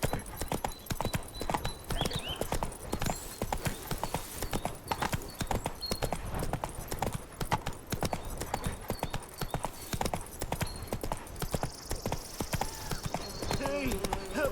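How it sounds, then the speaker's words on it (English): A horse gallops in The Witcher 3 game, its hooves drumming fast and continuous close by, with game voices speaking over part of the run. "Run, Roach."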